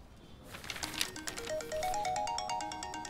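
A mobile phone ringtone plays in a Chinese TV drama scene: a soft rustle, then a clear melodic sequence of stepped electronic tones that repeats and rises, moderately loud and close.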